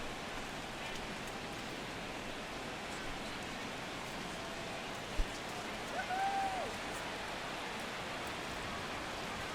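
Steady rain falling at game time in a Royals versus Cubs baseball video game, a soft constant hiss with no talk over it.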